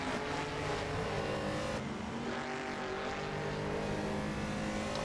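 A Corvette race car engine drones steadily in a racing video game at the Snetterton circuit, its sustained roar holding near and loud throughout with a brief shift in pitch partway through, no voices over it.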